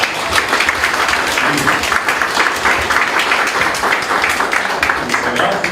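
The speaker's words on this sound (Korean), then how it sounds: "박수 한번 주세요." A political gathering's audience applauding a guest introduced as a Busan-elected Democratic Party figure; dense, steady clapping from a crowd runs throughout, with some voices mixed in.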